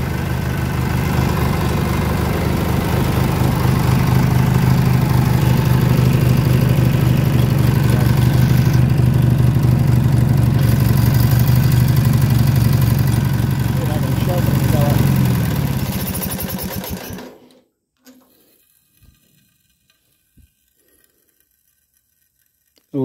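Massey Harris Pony tractor fitted with an 18hp Briggs opposed-twin engine, running loud and close with a steady throbbing idle for about fifteen seconds before shutting off and falling quiet.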